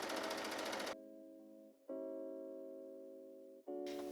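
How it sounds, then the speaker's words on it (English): A sewing machine top-stitches down the back side of a pair of overalls: a buzzing run, a brief pause, then two steady humming stretches of motor whir broken by short gaps and a final burst. "I'm just going to stitch all the way down this on the back side."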